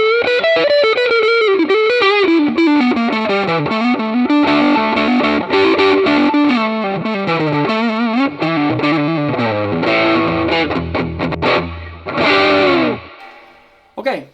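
An electric guitar with humbuckers plays through a MOOER GE300 multi-effects processor: a distorted, heavily processed melodic line with sustained, bending notes, loud and up front, ending on a few strummed chords.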